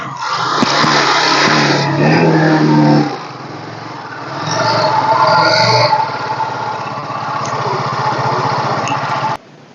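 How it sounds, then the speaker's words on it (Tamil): A used 2014 Yamaha Alpha scooter in good single-owner condition is started and left idling; its engine runs loud and steady with a brief louder rev, the steady running continuing close by until it cuts off. "பார்த்தீங்க, வாங்க ஸ்டார்ட் பண்ணி காமிக்கிறேன்."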